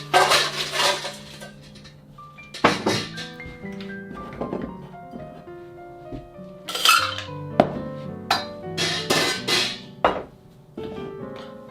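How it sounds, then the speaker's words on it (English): Ice dropped into a tin cocktail shaker, heard as a run of bright clinks and rattles in several bursts, close and fairly loud, with no talking. "get your tin shaker and put in some ice"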